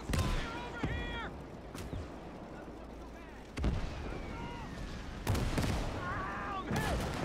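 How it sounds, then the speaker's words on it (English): Gunfire in an Iwo Jima war video game: several sharp shots burst out at irregular intervals over a constant roar of battle, with voices talking between the shots. "I'm taking a lot of fire over here."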